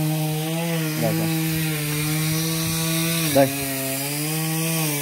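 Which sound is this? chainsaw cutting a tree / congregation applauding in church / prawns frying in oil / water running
chainsaw cutting a tree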